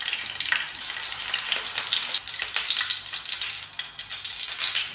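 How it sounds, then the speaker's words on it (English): Thin long chilies, washed, patted dry and slit open, shallow frying in oil: a dense, continuous close sizzle with fluttering crackles and spits, loud and alone without voices. "Thin long chilies that I wash, pat dry, and then I slit open to shallow fry in oil."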